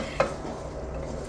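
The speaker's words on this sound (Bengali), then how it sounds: "চালটা মোটামুটি ভাজা হয়ে গেছে, আমি 5-7 মিনিট মতো ভাজলাম" Rice being stirred and fried with garam masala in a pan gives a single sharp scrape early on, then a soft, steady sizzle that runs on alone at low volume.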